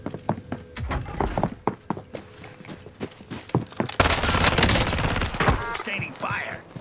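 Video game gunfire in a team shooter match, rapid bursts and single shots cracking close by, with a dense stretch of sustained fire midway, while players talk over the action.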